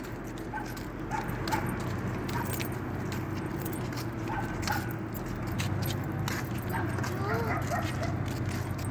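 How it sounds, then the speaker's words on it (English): A dog outdoors at night on a walk gives short yips and soft whimpers at a distance, set against a steady background hum with rustling and a jangle of keys. "Oh, there's a dog."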